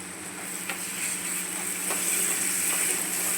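Browned onion frying with thecha chili-garlic paste for a Maharashtrian baingan bharta hisses in a steady, fairly loud sizzle. A few faint stirring clicks sound close by, with no talking.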